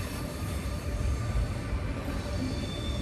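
Steady low rumble of an Italo private Italian passenger train rolling past at a station with a faint metallic whine, continuous and fairly close.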